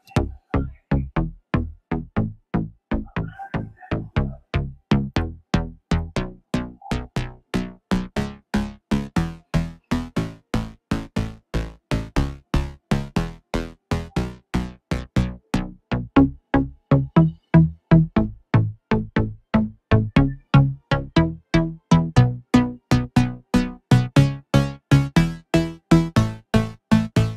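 A soloed synth bass track in MuLab plays a fast, punchy pattern of repeated staccato notes, pulsing in a steady rhythm for nearly half a minute with no other instruments or voices.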